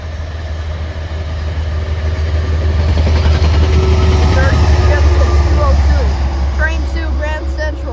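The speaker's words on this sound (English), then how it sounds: "Here goes that P-32 Genesis." A P-32 Genesis locomotive passes close by, its heavy low engine rumble and rolling wagons swelling loud and steady, with excited voices talking over it.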